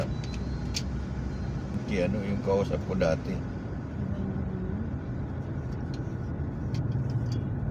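Steady road traffic rumble of passing cars in the afternoon, continuous and moderately loud, with a person talking over it.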